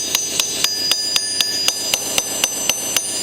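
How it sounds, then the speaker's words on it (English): A copper lid is struck with a hammer in a steady rhythm, about a dozen sharp, ringing metallic blows evenly spaced and loud and close, with no voices. "when you hammer this, this also makes the copper a lot stronger, a lot stiffer"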